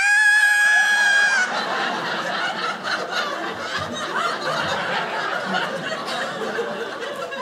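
A comedian's voice imitates a high-pitched screeching noise in a sustained, piercing squeal at the start, followed by audience laughter and chuckling that rolls on through the rest.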